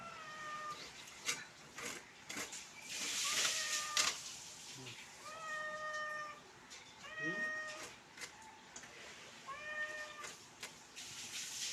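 A cat meows over and over for food, each call a clear, drawn-out cry rising and falling, repeated several times at close range with brief pauses between, against a quiet household background.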